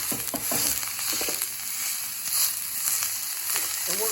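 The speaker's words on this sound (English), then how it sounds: "we're going to cook this ground beef, if you can hear me, until it's about halfway cooked" Ground beef sizzles and crackles steadily in a pan, with scattered stirring scrapes over the constant frying hiss and no voices.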